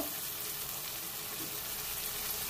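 Ginger paste frying in oil for a crab curry, giving a steady, even sizzle and hiss that holds at a constant level throughout, close and with no voices.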